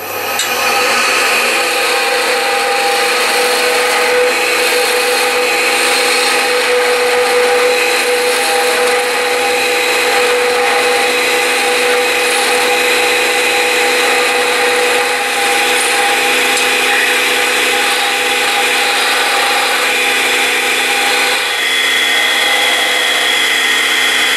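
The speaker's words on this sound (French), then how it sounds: "je vais l'enlever de son support avec le troncoir de 3 mm" Steel parting tool, 3 mm wide, cutting into a piece of spinning wood on a lathe, a steady loud scraping hiss that runs unbroken and close throughout with no voices.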